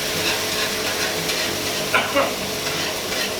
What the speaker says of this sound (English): Let it cook down a bit, whisk it a bit.